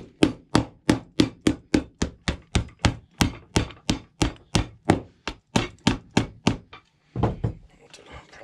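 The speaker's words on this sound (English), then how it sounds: "So I'm going to go ahead and hammer now." Steady, sharp hammer blows strike a leather boot sole in an even rhythm, about two per second, close up, followed by a few softer taps and rustling.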